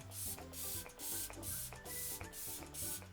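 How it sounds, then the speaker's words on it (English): Makeup setting spray misted onto a face in several quick hissing bursts, one after another in a steady rhythm, close by over soft background music. "So I'm gonna spray it on."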